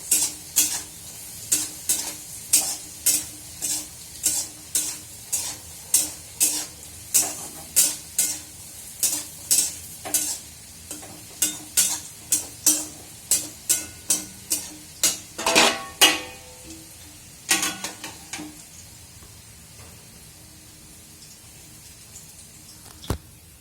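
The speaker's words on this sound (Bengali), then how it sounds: "এই যে দেখুন কড়কড়ে ভাজা ছোলা পেঁয়াজ আলু দিয়ে ভাজা।" Chickpeas frying with onion and potato in a pan, stirred in a quick, regular series of scraping strokes over a soft sizzle, close and clear, slowing toward the end.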